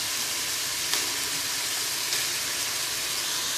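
Ginger-garlic paste frying in a pan for vegetable palav, giving a steady, close hiss and crackle with a couple of faint stirring knocks, no talking.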